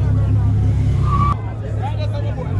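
A race car at the Mobay race track, its engine a steady, loud, low drone that shifts in tone partway through, with crowd babble and voices mixed in throughout.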